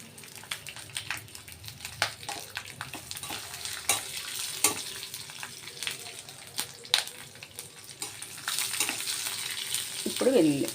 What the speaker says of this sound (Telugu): ఈ వేడికి ఆ వెల్లుల్లి వేగిపోతుందండి, సరిపోతుంది.